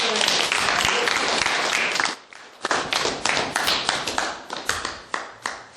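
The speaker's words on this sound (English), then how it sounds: "Round of applause." A small group of cadets gives a round of applause after a speaker, an initial burst of clapping, a short dip, then scattered, thinning claps trailing off.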